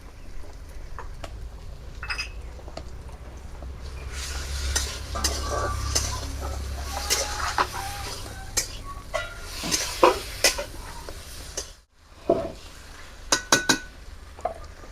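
Green chilli, garlic, cumin and black cumin paste being stirred into a pan for a taro dish, with steady soft frying and scraping of a utensil, clinks against the pan, and a brief pause before more scraping.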